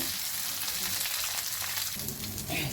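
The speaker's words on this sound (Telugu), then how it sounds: "బాగా వేగితే టేస్ట్ బాగుంటుంది బాగా వేయించుకోవాలి నూనెలో" Ripe red chilies fry in oil in a pot, producing a steady dense hiss of sizzling that stays close and even, with a slight shift in texture near the end.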